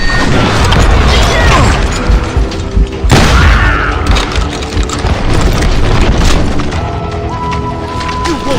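Shotgun and gun blasts in a street firefight in the Call of Juarez Gunslinger video game: heavy, loud booms and crashes one after another over a dense, chaotic bed of noise, with a voice shouting among them.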